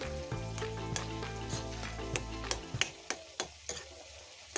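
Wild black taro sizzles as it fries in a pan, then a series of sharp stirring knocks and scrapes come at a steady pace while the frying sound fades.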